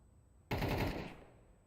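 MAC-10 submachine gun firing in a Counter-Strike match, a single loud, dense rapid burst lasting about half a second, then fading out over quiet background.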